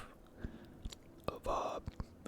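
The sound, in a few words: chewing cold Snickers chocolate bar with nuts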